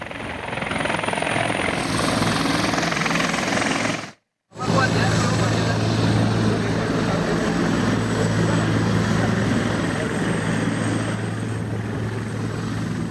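Indonesian military (TNI) helicopters fly close overhead during an evacuation in Flores Timur, a loud steady rotor and engine roar that holds almost without pause, cut by one brief silent gap.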